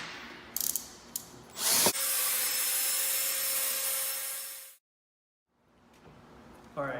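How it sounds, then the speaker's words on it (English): Cordless drill runs at low speed mixing epoxy grout in a pail, one steady whir of about three seconds that stops abruptly, with rattling and scraping around it. "what we're going to do is mix this with cordless drill just on a low speed"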